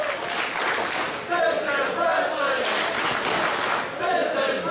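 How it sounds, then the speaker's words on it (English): A wrestling crowd at an independent show roars and cheers in loud, continuous waves, with chanting-like swells rising and falling throughout. "you hear the crowd saying all that needs to be said right now"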